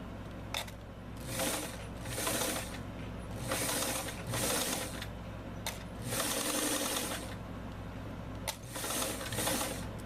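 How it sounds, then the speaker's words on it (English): A sewing machine stitches a 3/8 inch seam in several close bursts of rapid mechanical whirring, separated by short pauses and a few clicks. "let's go ahead and get this sewn"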